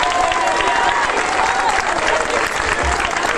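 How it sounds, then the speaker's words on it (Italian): A crowd at an outdoor evening concert in the piazza of San Ferdinando breaks into loud, sustained applause, a dense, even wash of clapping throughout with faint crowd noise mixed in. "Facciamo un applauso a tutti quelli che sono arrivati qui da lontano"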